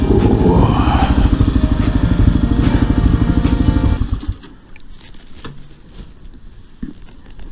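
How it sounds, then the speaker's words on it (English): A Kawasaki KLR650 motorcycle roars loudly at riding speed on a trip through the Upper Peninsula, its engine and wind noise dominating before dropping off abruptly to a quieter idle-like rumble. "That bike is a pleasure to travel on."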